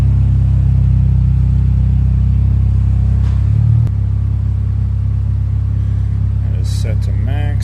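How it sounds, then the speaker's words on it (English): A car fitted with a loud, noisy exhaust idles with a heavy low rumble, then is revved a couple of times; steady droning engine sound close by, with a person speaking briefly near the end. "give it a couple revs, see what the max is"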